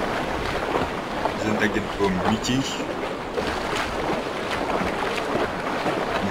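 A boat moves across open water in the survival game Bermuda - Lost Survival, with steady wind and wave wash running throughout and someone speaking German over it.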